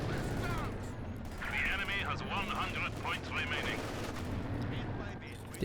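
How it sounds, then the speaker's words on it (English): Pintle-mounted machine gun firing in a Company of Heroes 2 battle, continuous rattling bursts mixed with other gunfire and explosions, loud and dense throughout, with a voice talking over the combat. "use the the Pintle MG to try and deal with this unit"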